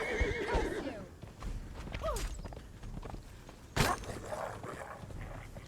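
A horse neighs and whinnies with rising, wavering cries in the fantasy survival game Conan Exiles, amid clopping hooves, footsteps and combat clatter, with a sharp impact near the middle and a voice underneath.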